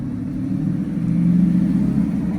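A V12 car in Monaco passes close by, its engine making a deep, loud rumble that swells to a peak and then holds through the brief moment, with no one speaking.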